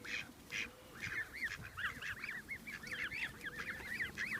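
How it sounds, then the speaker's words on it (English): Geese and ducks honk and quack in a lively, continuous chorus at close range while being fed bread on the Isle of Wight, the calls overlapping in quick bursts. "I'm going to attempt to feed one of my babies. One of my baby ducklings."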